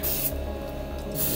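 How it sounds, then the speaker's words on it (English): Mr Sheen cleaner sprayed onto a dirty Data East Tales from the Crypt pinball playfield: one close, steady hiss of spray lasting about a second, heard alone. "Squirt. A little bit of soap."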